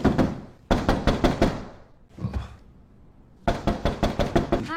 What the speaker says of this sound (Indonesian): Tiba-tiba, suara ketukan pintu memecahkan keheningan.